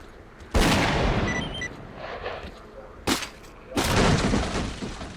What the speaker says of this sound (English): Wow, this shotgun sound.